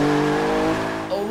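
Infiniti Q60 Concept coupe of about 400 horsepower in Forza 6, its engine holding a loud steady tone that sags slightly and then rises again as the car slides sideways.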